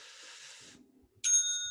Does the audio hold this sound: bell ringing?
yes